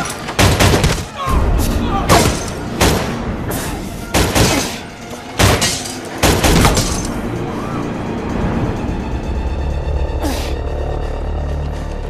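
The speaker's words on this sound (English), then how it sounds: "we have multiple gunshots coming from Wyman Park Hotel" Multiple gunshots ring out in a shootout between a SWAT team and a gunman at a restaurant in the Wyman Park Hotel in the TV drama S.W.A.T., as a series of sharp, loud cracks spaced irregularly over rumbling background noise, with people talking in between.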